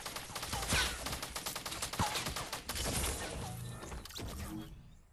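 Fortnite gunfire crackles in a dense, rapid burst of repeated shots with a few heavier cracks, loud and continuous before cutting off near the end.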